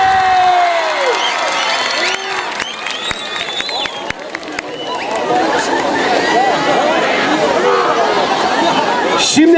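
A large outdoor crowd at a Republic Day concert in Gölcük, Turkey, fills the air with continuous applause, cheering and loud chatter, with brief whistles and shouts rising over the dense, steady roar.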